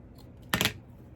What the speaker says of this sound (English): you're going to cut it lengthways, match up your edges, start on the folded edge, and you're going to cut toward the outside